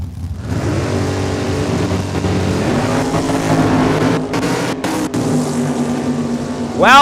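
Drag race cars roar at the start line of Saskatchewan International Raceway in Saskatoon, a loud, steady, close engine drone holding for several seconds before a sharp rise at the end.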